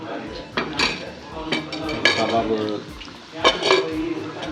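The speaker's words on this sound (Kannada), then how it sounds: "ಕಬಾಬ್ ಫ್ರೈ ಆಗುಂಡು" Kebab pieces fry in a pan, a steady close sizzle with repeated metallic scrapes and clinks of a utensil turning them at an uneven rhythm.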